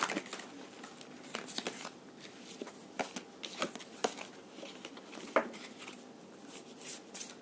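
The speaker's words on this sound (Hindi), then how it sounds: "I will shuffle for one more time, फिर हम यहाँ पे कार्ड्स लेंगे।" A deck of tarot cards being shuffled by hand, a steady run of soft papery riffles and slaps with a few sharper card snaps, close and fairly quiet, no talking.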